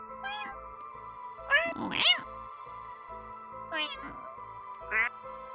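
A cat meows several times in the Paranormasight video game, short rising mews spaced a second or two apart over steady game background music, with a voice briefly joining the meows.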